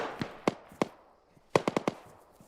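Distant enemy gunfire in the military game Arma, sounding as scattered sharp cracks: a few isolated shots, then a quick burst of four or five after a short pause, fairly faint against a quiet background.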